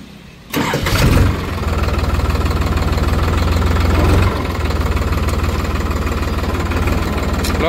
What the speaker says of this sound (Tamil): இந்த டிராக்டரை வந்து ஸ்டார்ட் பண்ணி ஆப்ரேட் பண்ணி காமிக்கிறேங்க